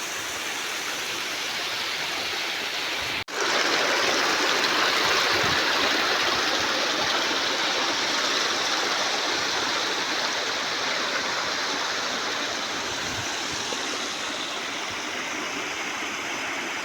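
A wide river pours over a dam in a loud, steady rushing roar that goes on without pause, broken only by a single sharp click near the start.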